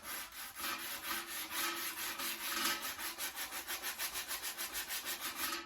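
A wooden steering wheel is hand-sanded with a sanding sponge, giving close, loud rhythmic scratching strokes that speed up into quick, even back-and-forth passes with no talk.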